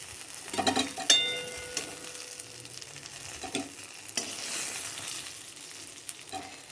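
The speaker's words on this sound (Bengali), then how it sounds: "বেগুনগুলো ভাজা হয়ে গেছে" Steady oil sizzle of eggplant slices frying, with occasional clinks and scrapes of a utensil stirring in the pan; no talking.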